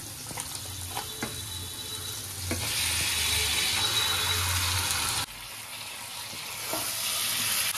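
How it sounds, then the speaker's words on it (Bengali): Chicken meat frying in a spice paste sweetened with a little sugar in a pan, a steady loud sizzle with stirring scrapes that swells louder midway and then settles, with no talk. "মশলাটা চিনিটাকে দিয়ে ভালো করে ঘেটে এবারে আমি মাংসটা ঢেলে দেবো।"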